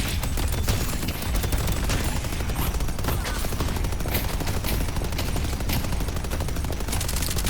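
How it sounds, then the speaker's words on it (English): A minigun and a deployed turret fire in the Deadlock video game, giving a continuous, dense stream of rapid gunshots that stays loud and unbroken throughout. "Here we're just keeping up the minigun while he hides behind cover there."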